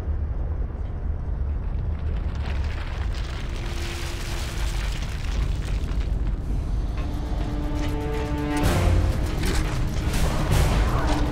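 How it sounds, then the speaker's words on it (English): Deep, continuous seismic rumble in the Gears of War 2 video game, a loud dense roar with a swelling surge of crashing, explosive bursts near the end and no voices. "I'm detecting serious seismic activity beneath you"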